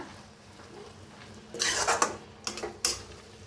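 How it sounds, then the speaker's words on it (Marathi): Onion greens curry stirred in a pan: after a quiet stretch, a few metallic scrapes and clinks of a utensil against cookware land in short bursts, close and fairly faint. "मिक्स करून घेते."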